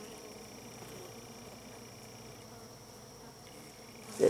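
Bees swarming around an open hybrid beehive give a steady low hum close by, with a short puff of breath at the very end.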